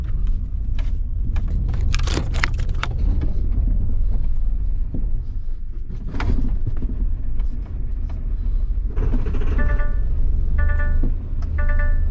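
A DAF LF 45 box van exhibition unit with a flat battery idles with a steady, close, low diesel rumble, broken by occasional clunks and knocks, with short bursts of repeated electronic beeps near the end.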